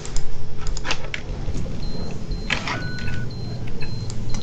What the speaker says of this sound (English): opening driver window